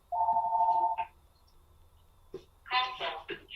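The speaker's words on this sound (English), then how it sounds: "let me just get that phone call" An incoming call's phone ringtone plays one steady electronic tone for about a second, then quiet, followed by brief rustling and a person starting to speak.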